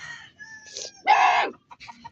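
A rooster lets out a short, loud crow that rises and then breaks off, with softer clucks and fowl calls before and after it, close by in an outdoor yard.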